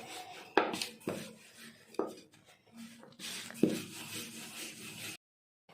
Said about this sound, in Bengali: এবারে একটু আটা দিয়ে রুটিটা এবার বেলে নেব।